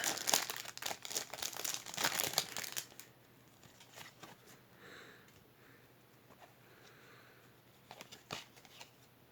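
Foil sachet of football trading cards from the 2020/2021 Champions League and Europa League range torn open, a loud burst of crinkling and tearing for about three seconds, then quiet card shuffling and faint handling.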